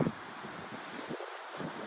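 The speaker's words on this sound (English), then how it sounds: "And the wind is very strong as well" Strong wind blows outdoors among trees, a steady rushing roar with buffeting against the microphone, continuous and fairly faint throughout.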